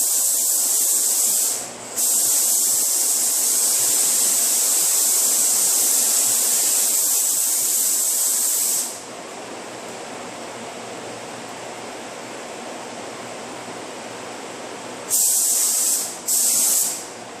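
A paint spray gun hisses steadily while laying coats on the body of a 2011 Ford Taurus under front-end collision repair, loud and close in long passes with short breaks and a softer stretch.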